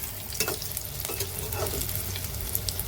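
Milk-dipped egg toast sizzles steadily in a big wok, a continuous close frying hiss broken by a couple of brief utensil scrapes.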